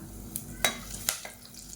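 Curry leaves dropped into hot oil with star anise, cloves and kalpasi give a few sharp, scattered crackles and pops over a faint, low sizzle.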